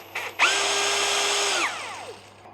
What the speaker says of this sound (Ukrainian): Якщо ви нажимаєте в пів кнопки, він працює імпульсивно